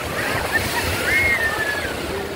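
Sea waves breaking on the beach at Puri, a constant rushing surf wash close by, with faint voices and a thin high call carried over the roar.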